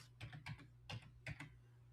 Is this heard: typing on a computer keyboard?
yes